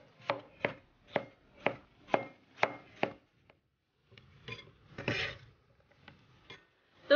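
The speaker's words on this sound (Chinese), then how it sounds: "把柿子切成块儿" A knife chops tomatoes into chunks on a board. There is a run of about seven evenly spaced, crisp thuds, then a short pause and a looser cluster of cuts and scraping.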